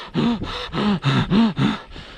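A voice imitates heavy panting, five or six quick, loud, rhythmic gasping breaths in a row, close up.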